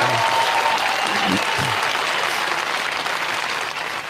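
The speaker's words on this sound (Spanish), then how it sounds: "Por favor, un aplauso fuerte." A television studio audience at a live talk show bursts into loud, dense, continuous applause. It tapers slightly toward the end, with brief voices and laughter showing through near the start.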